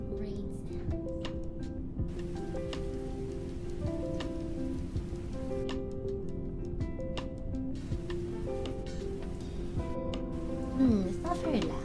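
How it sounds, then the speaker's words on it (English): Rain ambience on a comfy lofi co-working stream, a steady soft patter of raindrops layered beneath mellow music, continuous and fairly low in the mix. "Maybe let's have a bit of rain sounds."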